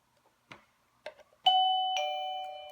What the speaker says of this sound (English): This is the default setting for the bell.